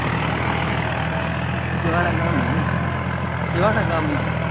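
A new Farmtrac 60 EPI Supermax tractor engine rumbles steadily in the background, pulling a lowered tiller, while someone talks over it.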